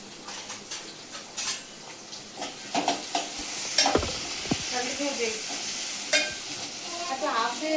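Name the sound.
onions frying and being stirred in a pan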